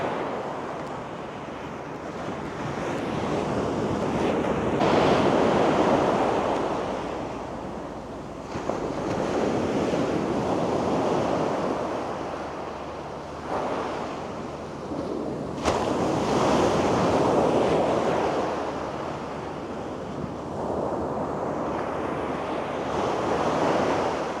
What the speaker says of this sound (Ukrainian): Такі хвилі.